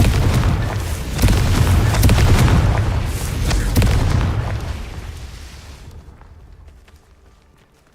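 Booming blast from the Confringo fire spell in Hogwarts Legacy: a heavy, loud burst with rumbling low end and crackling debris that swells and then decays into silence over several seconds.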